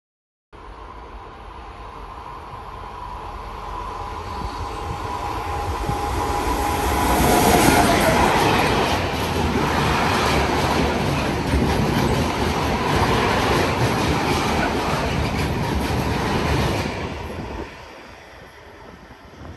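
A train passes through the station on platform 1 at Anzola Emilia, a loud sustained rumble with rail clatter that swells near the middle and stays strong for most of the pass before fading at the end.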